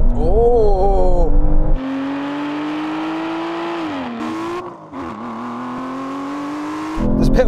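Aston Martin Valkyrie, Vanquish and V12 Vantage accelerating hard in a drag race, engine notes climbing through gear shifts with a dip at each change, loud and close, with a brief burst of wheel spin.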